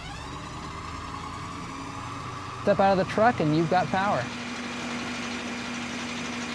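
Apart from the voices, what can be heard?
Ford F650 truck engine ramping up to run generator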